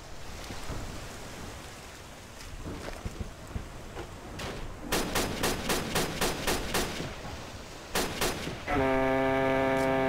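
Bursts of machine gun fire in the Hidden & Dangerous Deluxe video game, sharp rapid rattling volleys in the middle, ending with a louder sustained metallic effect.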